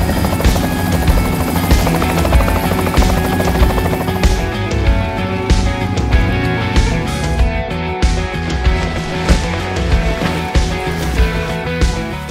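A police helicopter drones steadily nearby during a cannabis plantation raid, its rotor chopping and engine whine continuous and loud for the whole stretch.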